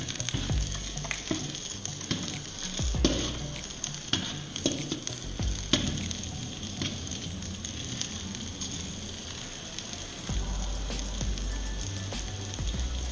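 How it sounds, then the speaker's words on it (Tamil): Chopped onions sauté in a hot kadai for Tamil urad dal chutney, with a continuous oily sizzle and frequent scraping and clacking strokes of a spoon stirring close by. "அதே கடாயை எடுத்து அதில் வெங்காயத்தை போட்டு நல்லா வதக்கிக்கோங்க"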